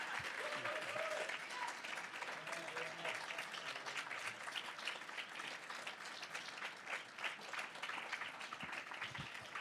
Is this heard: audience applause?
yes